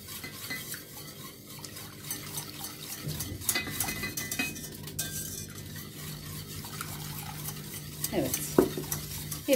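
A milk mixture for a milk pudding is whisked steadily in a bowl, the whisk tapping and swishing against its sides in a quick, continuous rhythm, close and moderately quiet, with no voices.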